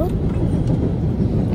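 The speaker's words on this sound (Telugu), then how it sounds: "పైన సబ్వే అంట, ట్రైన్స్ వెళ్తాయి అన్నమాట." A low, steady rumble of a subway train passing overhead in New York fills the clip, heavy and continuous, with a voice talking faintly underneath.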